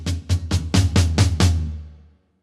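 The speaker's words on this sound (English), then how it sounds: "The last measure contains a fill of 16th notes on bar 3 and 4" A drum fill of 16th notes split between floor tom and snare, with seven or eight sharp, booming hits in quick succession that grow louder, then ring out and decay to silence.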